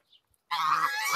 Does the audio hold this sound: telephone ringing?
no